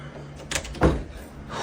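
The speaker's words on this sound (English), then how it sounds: "a door closes by itself, much to the uploader's shock." A house door swings shut on its own with a soft thud, one brief close following a faint knock, amid quiet room tone.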